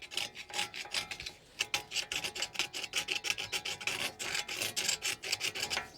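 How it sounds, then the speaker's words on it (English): A screwdriver edge scraping rust out of a wheel bearing housing on a 2009-2017 Audi Q5, fast rhythmic rasping strokes up close, loud and steady with a brief pause early on and no talk. "inside here, I'm going to use just the side of my screwdriver, scrape this out"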